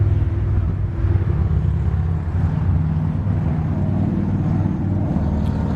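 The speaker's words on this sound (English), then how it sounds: "A couple of motorcycles going by there." Motorcycles pass near a bridge on a Missouri lake hiking trail, a steady low engine rumble heard from a middle distance that swells slightly and stays continuous, with no voices.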